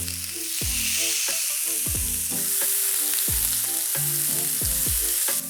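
Bavette steak dropped into a hot pan with olive oil and salt: a loud, steady hiss and crackle of frying close up, with scattered pops and knocks throughout.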